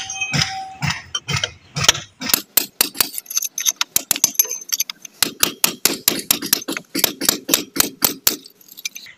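Cement is dug out around a leaking roof drain pipe in a lintel, making sharp metallic chipping and tapping strikes in an irregular, fairly rapid rhythm, close and distinct.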